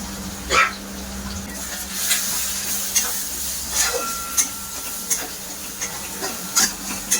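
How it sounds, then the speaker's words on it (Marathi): Pav bhaji masala with chilli, turmeric and coriander powder being fried in oil, a soft steady sizzle under occasional sharp stirring clicks and scrapes of a spoon in the pan. "छान मस्त हा मसाला परतवून घेतलेला आहे।"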